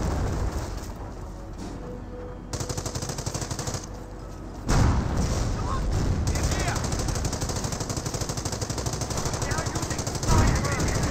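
Artillery barrage in the Company of Heroes strategy game, with heavy booming impacts near the five- and ten-second marks rising over a continuous rattle of battlefield gunfire.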